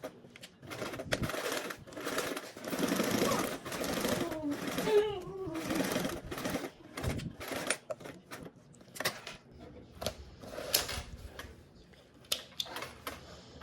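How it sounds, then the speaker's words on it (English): A sewing machine sews a seam with a quarter-inch allowance in stop-start bursts of rapid stitching, broken by pauses and fabric handling close by. "Sewing with a 1/4 seam allowance."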